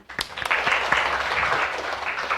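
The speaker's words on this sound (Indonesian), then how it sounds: "Oke, tepuk tangan" A classroom of students applauds together, a dense burst of clapping that starts sharply and holds steady at moderate loudness throughout, with a few louder individual claps near the start.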